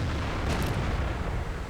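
A tank cannon firing in a tank video game on a mountain pass map, heard as a loud continuous booming rumble that fills the whole moment, close and heavy.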